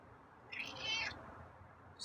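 A single drawn-out meow from a cat, fairly faint, rising and falling over about half a second against quiet background.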